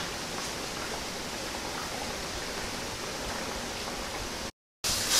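Okra and spicy peppers stir frying in a pan, a loud continuous hiss of sizzling that fills the whole span, cutting out briefly near the end before resuming.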